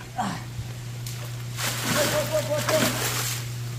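A large fish flops and splashes in pond water at a fish rescue, with bursts of sloshing over a steady low hum and someone talking nearby.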